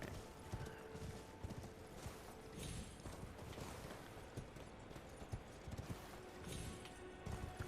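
Horse hooves clop in a fast, steady rhythm, galloping continuously under a dense, noisy Elden Ring game soundscape.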